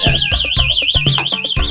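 A vehicle alarm siren wails loudly and continuously close by, its warbling tone rising and falling in fast regular sweeps over a rapid pulsing beat.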